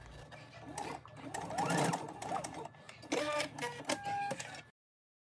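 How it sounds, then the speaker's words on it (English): A sewing machine runs in bursts as it stitches a welt to a skirt, with a long run followed by several shorter stop-start runs and a sharp mechanical whir close by. "when stitching my welt to my skirt, I stitch on the back side"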